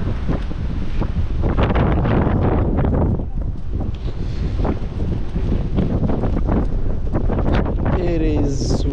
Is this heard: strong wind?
yes